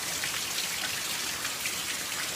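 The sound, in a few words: rain falling during a storm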